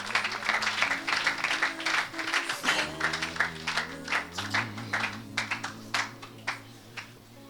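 A church congregation at a deliverance service claps and acclaims the Lord, with fast, dense hand-clapping running throughout at a steady rhythm alongside sustained background tones, fairly close and moderately loud.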